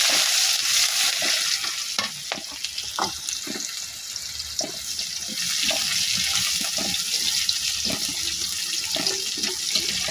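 Onions fry with cumin seeds and bay leaf in hot oil in a kadai, making a loud, continuous close sizzle broken by frequent scraping stirs from a spoon against the pan.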